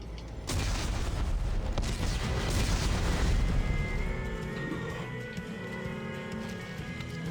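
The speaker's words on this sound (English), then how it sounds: "Computer, arm explosives. And detonate." Explosives detonate in the video game Dead Space 3: a sudden loud boom that rolls into a long, heavy rumble and crackle before slowly fading to a lingering low roar.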